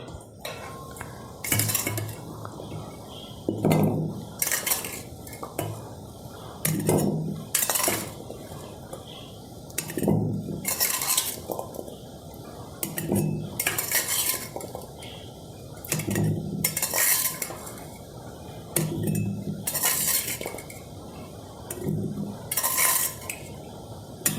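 Hog plums are dropped by hand into a small pickling jar, making repeated close clinks and clatters at steady intervals over about twenty seconds, with soft background speech.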